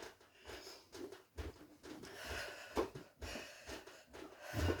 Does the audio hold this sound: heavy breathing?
yes